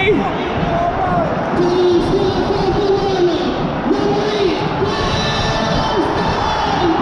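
A football crowd roars and cheers loudly after a last-minute winner in a Kilmarnock versus Arbroath SPFL Championship match, a dense, continuous wall of shouting with a commentator talking over it.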